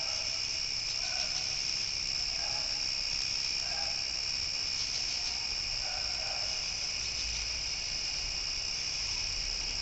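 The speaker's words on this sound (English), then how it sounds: "there's 2 crickets chirping, one giving the continual background chirp, lots of those crickets" Night crickets keep up a continuous shrill background trill while a second cricket adds short, evenly spaced chirps over it, steady and moderately close with no talking.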